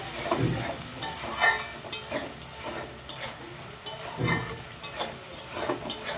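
Fish being sautéed in a pan with turmeric and salt, a soft sizzle under intermittent scraping and stirring strokes of a spatula against the pan, fairly close and moderately quiet, with no talking.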